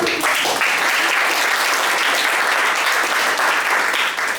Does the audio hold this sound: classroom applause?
yes